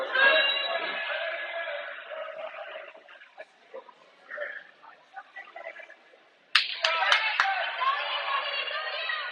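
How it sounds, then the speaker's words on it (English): A crowd at a high school wrestling match cheers and shouts in a sustained roar that dips briefly and then surges again with sharp claps, while a commentator talks. "Crowd's going nuts"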